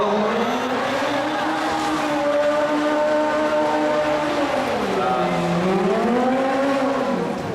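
A remote-controlled stunt car spins at a Disney stunt show, its tires squealing loudly and continuously in sweeping pitch bends over engine roar, close and dominant throughout with crowd ambience beneath.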